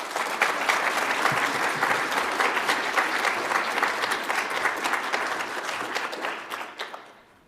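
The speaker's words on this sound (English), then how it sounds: "Please give a round of applause for Dr. Joanne Pelaez Fisher." Audience applause at a 2021 nursing pinning ceremony, a dense, loud, continuous wash of many hands clapping that holds steady before tapering off and fading out at the end.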